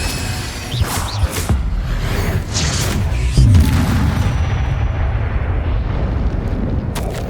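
Fiery spell blasts from Hogwarts Legacy gameplay, a series of booming explosions and whooshes in quick succession, with a heavier rumbling burst midway that lingers as a sustained roar.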